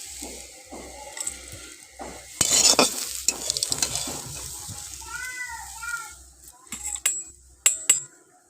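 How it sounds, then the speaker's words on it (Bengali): Jackfruit seeds fry in a wok under intermittent stirring, with scraping, clattering utensil knocks and a faint sizzle coming in irregular bursts, louder in the middle and near the end. "বীজগুলো একটু ভাজা ভাজা মতো হয়ে গেলে তারপর আমি কড়াই থেকে নামিয়ে নিচ্ছি"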